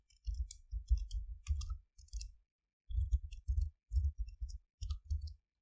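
Computer mouse clicking in quick clusters, short soft taps repeating in groups with brief pauses, close and quiet with no talking.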